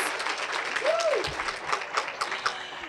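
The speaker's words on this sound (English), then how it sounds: "You can clap." Audience applause at a community organization's benefit luncheon, a steady wash of many hands clapping for about three seconds at moderate volume, with a brief voice rising through it.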